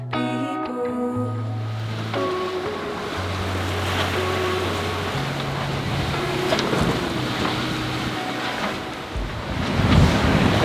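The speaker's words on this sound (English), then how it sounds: "It's a crazy old sea state this morning" Rough, choppy open sea heard from a boat, with a steady roar of waves and surf mixed with gusting wind buffeting the microphone, a low droning hum underneath, and a louder surge near the end.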